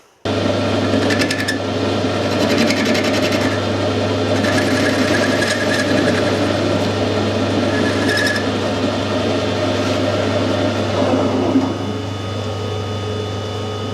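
Metal lathe running steadily through a screw-cutting pass, a constant motor hum with a strong low drone and intermittent higher scraping of the tool on the workpiece, close and continuous with no talk.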